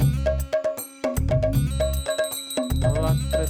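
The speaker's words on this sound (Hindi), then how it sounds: "घंटी बज रही है" A bright, metallic bell rings out in rapid repeated strikes with ringing overtones, in quick clustered bursts that pause briefly and resume, loud and close with no voices over it.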